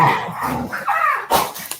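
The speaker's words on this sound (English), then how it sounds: "Whose dog is in the background?" A dog barks excitedly somewhere in the background, a short burst of loud yips and barks over a muddled, noisy backdrop.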